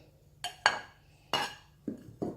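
Chili and dried shrimp are pounded in a mortar, giving five sharp, separate knocks spaced irregularly. Each is close and fairly crisp, with quiet gaps between them and no talk.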